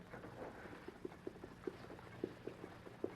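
A white horse's hooves clip-clopping as it approaches over brushy ground outdoors, faint and distant at first, with steady, spaced hoof strikes growing slightly more distinct.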